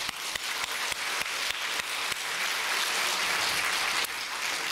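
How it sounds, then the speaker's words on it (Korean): Church congregation at an Easter service applauding together, with some separate sharp claps at first before the clapping settles into a continuous, even wash of applause that holds steady throughout. "우리 모두 하나님 앞에 영광의 박수."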